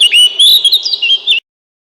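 A small songbird sings a bright, high, warbling phrase of quick chirps and whistles, loud and close, lasting just over a second before cutting to silence.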